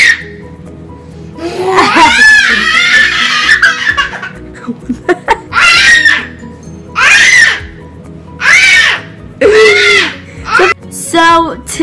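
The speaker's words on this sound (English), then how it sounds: "that was just my little sister and she was like screaming" A young girl screams and squeals with giggly laughter in an indoor room, several loud, close bursts in an uneven rhythm mixed with excited voices.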